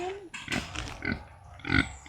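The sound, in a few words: pig grunting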